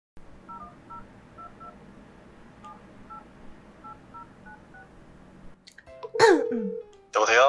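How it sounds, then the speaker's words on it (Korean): Phone number being dialed on a keypad, a quick series of about a dozen distinct beeping tones in an irregular rhythm, followed by a person talking. "내 번호 저장해둬. 전화 바로 걸 거야."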